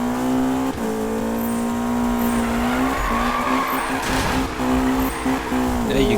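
A McLaren 570S drifts in Need For Speed 2015, its engine holding a loud, steady harmonic whine while tyres squeal and skid, with brief dips and revs as the slide is lost.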